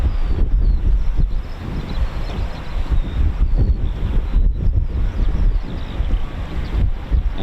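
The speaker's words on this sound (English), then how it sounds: "21 knots is the wind speed." Strong 21-knot wind buffets the microphone outdoors at an airbase, a loud continuous rumbling roar with gusty surges and brief lulls throughout.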